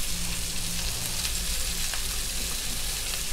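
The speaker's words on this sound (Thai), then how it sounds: "ผัดแห้งๆนะแล้วก็โรยต้นหอมลงไปได้เลย" Mala pork belly with bell peppers stir-fries in a pan, giving a steady, close, dense sizzle and crackle that holds level throughout, with no voices over it.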